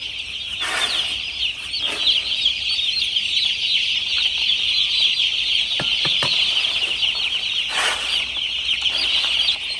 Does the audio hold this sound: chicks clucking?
yes